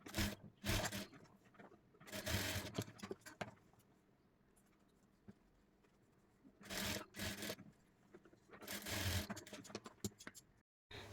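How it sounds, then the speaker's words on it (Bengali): A sewing machine stitches the darts on a double katori blouse in short bursts of rapid whirring, separated by quieter pauses, with no talking. "এখন টেকিংগুলো স্টিচ করে নেব।"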